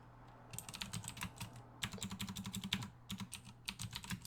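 Quiet, close typing on a computer keyboard comes in uneven bursts of rapid key clicks with brief pauses between runs, and no voices.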